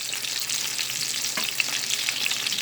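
Meatballs fry in oil in a pan with a steady, bright sizzle, close and constant, with a few small pops and a brief clink partway through.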